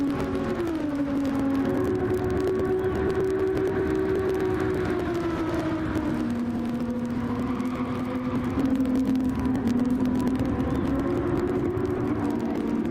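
Engines of race cars in a racing video game drone steadily at a constant loud level, pitch bending slowly up and down as the cars lap the track, with no voices over it.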